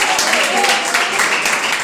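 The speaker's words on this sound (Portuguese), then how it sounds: "Palmas para Jesus de Nazaré." A church congregation applauds with a steady, dense wash of clapping, close and fairly loud, while a voice speaks over it throughout.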